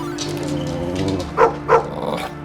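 A dog barks twice in quick succession, short and fairly close, over a dense background of music or ambience with no talk.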